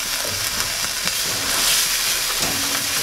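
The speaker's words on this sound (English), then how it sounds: "Now, deglaze your pan. You've got a little bit of caramelization sticking to the bottom of your pan, so use the sour cream to get that picked up." Sour cream deglazes a pan of caramelized onions over heat, giving a bright, steady hissing sizzle with a few stirring taps, close and fairly loud.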